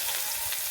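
Chopped onion fries in a pan with minced garlic, giving a steady, close hiss and crackle of hot oil that fills the brief moment.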